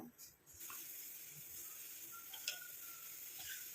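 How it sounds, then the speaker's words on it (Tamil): A steady simmering hiss with faint bubbling pops and a light stir, close by, with no voices, as an herbal mixture boils in an iron pan. "இப்போ பாருங்கள் நல்லா கொதிக்க ஆரம்பிக்குது"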